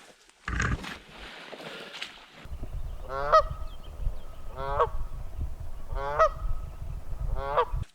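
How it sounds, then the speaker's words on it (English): Several wild geese honk in a woodland, four distinct bursts of harsh, rising calls spaced a second or two apart over a steady low rumble, after a brief rustling noise at the start. "I'm going through the woods to try and get away from these geese."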